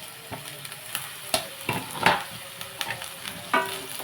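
Onion and green chili pieces fry in hot oil for a mushroom curry, giving a close, even sizzle punctuated by irregular stirring scrapes and clinks.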